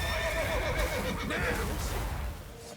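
A horse whinnies loudly in The Witcher 3 during a chaotic escape scene, a long rising-and-falling neigh over busy game sound and hoof clatter.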